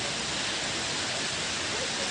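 Steady heavy winter rain pours down in a dense, even hiss that fills the whole stretch without a break, close and loud, with no voices heard over it.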